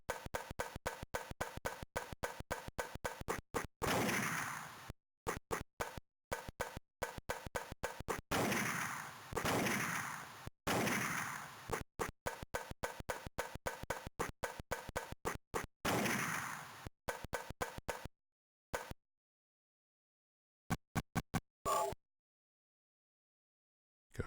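Chiptune shotgun blasts from the Silent Hill 1 GameBoy demake crackle in rapid, loud bursts of harsh noise, some clustered tightly and some spaced out, before the action thins into a few isolated blasts and silence.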